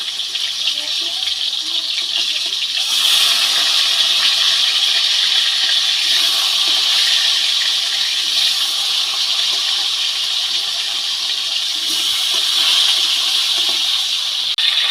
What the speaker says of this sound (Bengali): শোল মাছগুলো ভাজা হয়ে গেছে এবার তুলে নেব